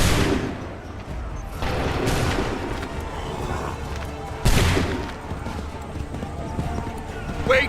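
Musket volley fire in Assassin's Creed 3 Remastered, a dense crackle of many shots with a sharp loud burst partway through, over battlefield noise, galloping hooves and shouted commands.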